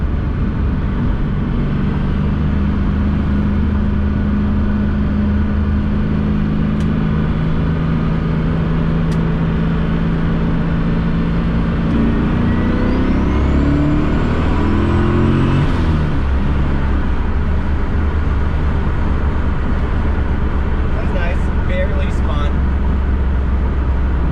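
A turbocharged C4 Corvette running about 8 psi of boost makes a pull, its engine droning low and steady before the pitch climbs sharply and whines upward, loud and close inside the car.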